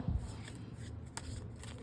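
Fortune-telling cards being shuffled by hand, a brief soft riffling and papery rustle close by, steady and quiet with a faint thump at the start.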